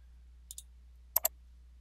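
A computer mouse gives two quick double clicks, close and crisp, in a quiet room with a low steady hum and no talking.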